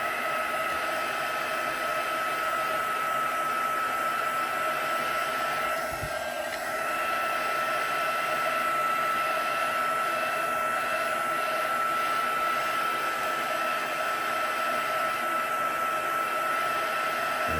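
A handheld heat or hair dryer blows steadily and close by, drying both sides of a freshly stamped Christmas card; a constant whooshing hum holds for the whole stretch with no talk.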